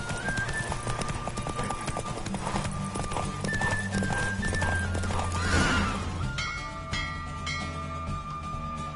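Hooves of a horse galloping in a race in The Witcher 3, rapid clip-clop with a whinny, over game music and ambient sound, fairly close.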